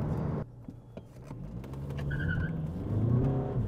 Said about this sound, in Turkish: şimdi biraz daha zorlayalım aracın viraj performansını görelim